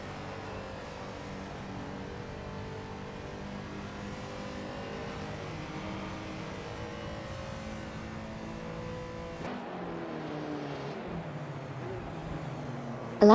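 Race cars in a Le Mans racing simulator video game hold a continuous layered engine drone with shifting gear pitches, a sudden drop near the end as one car changes tone, steady and fairly close with no voice.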